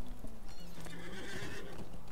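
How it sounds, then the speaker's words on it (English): A horse in the video game Lord of the Rings Online clip-clops along with steady hoofbeats, a short whinny mixed in, under low game background sound. "They're going to ride a horse."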